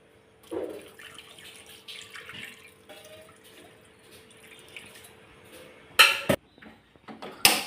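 Water trickles and drips into a sink as fish is washed, with light handling noises, then a few sharp splashes and clatters near the end; no speech.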